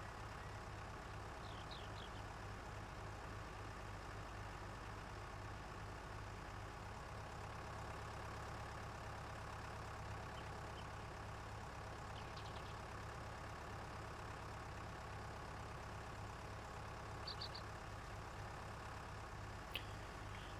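A small tractor engine idles in Farming Simulator 19, a quiet, steady low putter with an even rhythmic pulse throughout, with a few faint clicks and chirps on top.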